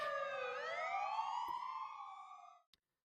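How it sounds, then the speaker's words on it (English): Police sirens wail in Ace Attorney: Dual Destinies, several rising and falling siren tones overlapping loudly before cutting off abruptly, followed by a brief click and silence. "that's the police if I've ever heard sirens before"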